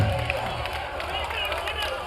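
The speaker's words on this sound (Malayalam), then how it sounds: "കായിക സ്നേഹികളുടെ കൈയടി" Sports fans applaud and cheer at a Kshatriyans Calicut match, a steady wash of crowd clapping and voices with a loud burst right at the end.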